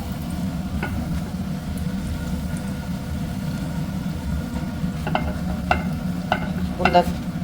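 Continuous sizzling of food frying in oil, steady and close, with a low rumble underneath and a few sharp clinks near the end.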